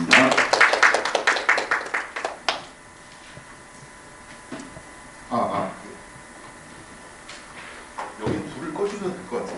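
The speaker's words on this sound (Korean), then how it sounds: "박수 부탁드리겠습니다." A short burst of clapping from an audience at an academic seminar, loudest at the start and dying out within about two and a half seconds, followed by quiet room noise, shuffling and a voice speaking.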